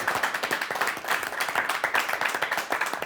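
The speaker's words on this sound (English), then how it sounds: "A big round of applause." A studio audience on a cooking competition show claps in a dense, continuous burst of applause, lively and close, with no voices over it.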